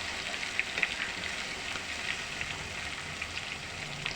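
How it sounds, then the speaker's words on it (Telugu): Soaked chana dal frying in hot oil over a medium flame, giving a steady close sizzle and crackle with small popping bursts throughout, no voices. "దీన్ని ఆయిల్లో వేసి ఫ్రై చేసుకోవాలి"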